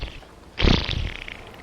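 A person imitates an armpit fart with their voice: one loud, buzzy, sputtering burst that trails off into a softer rasp, close and alone.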